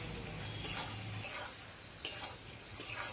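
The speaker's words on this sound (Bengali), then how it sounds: "এইটা দিয়ে একটু নেড়ে চেড়ে বেশ সুন্দর করে কষে দিচ্ছি।" Fish curry masala with Kashmiri chili powder stirred and fried in a pan, a soft continuous sizzle broken by three brief spoon scrapes, heard close and quiet with no talk.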